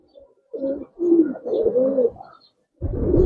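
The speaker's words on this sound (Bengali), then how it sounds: "এক পেয়ার বাবরা কবুতর ভাই" A pair of Babra pigeons coo in several low, throaty phrases, fairly close and clear, with a short pause before a final burst of cooing.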